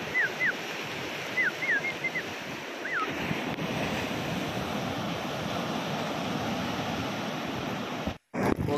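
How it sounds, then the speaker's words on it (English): Ocean waves on the Goa coast during the monsoon roar as a steady, broad wash of surf mixed with wind buffeting the microphone, with a few faint chirps early on. "You can check out all the waves which are coming up and lot of sound of the waves."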